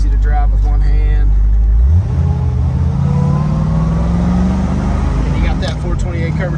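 A black 1968 Shelby GT500 KR convertible with a 428 Cobra Jet and factory four-speed rumbles loudly up close, then its pitch climbs steadily as it accelerates, with a voice briefly audible at the start.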